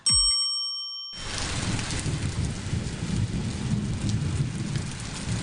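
Heavy rain pours steadily with low rumbling thunder throughout, loud and continuous after a brief electronic tone at the start; no voices.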